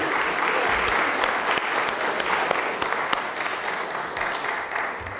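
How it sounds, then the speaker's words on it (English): A large audience at an arts community talk applauds steadily, dense clapping holding loud and even throughout with no speech over it. "That applause is for you."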